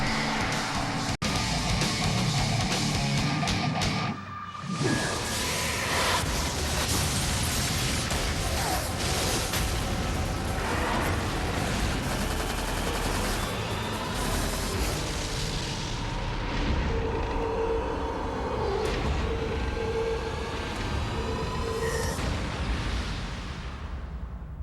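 Gears of War trailer audio for Xbox 360: dense, continuous booming gunfire and explosions with heavy rumbling effects, loud throughout, with one brief dip before the barrage resumes.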